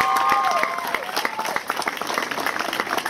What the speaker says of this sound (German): ein riesen Applaus nochmal an Tugay